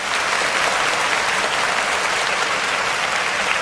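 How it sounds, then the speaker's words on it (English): A crowd applauds a young woman heading to Harvard, with continuous, even clapping that stays constant from start to finish. "Let's give her a round of applause because she deserves it"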